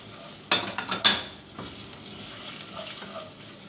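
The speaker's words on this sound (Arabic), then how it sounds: "كركم وكاري وملح وسبع بهارات هناخدهم تحميصه برضو كده" Turmeric, curry, salt and seven spices toast in a pan for mandi rice, heard as a few sharp scraping stirs against the pan followed by a faint, soft sizzle, quiet and with no talking.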